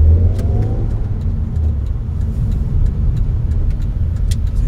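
A manual Audi TT 1.8T engine revs up as it accelerates, a rising mid-pitched drone with steady road rumble close by; no one speaks.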